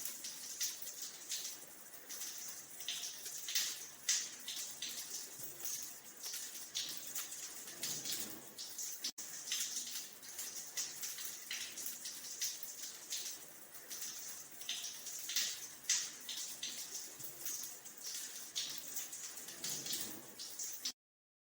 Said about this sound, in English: Then you should pour at least 3 handfuls of water on your head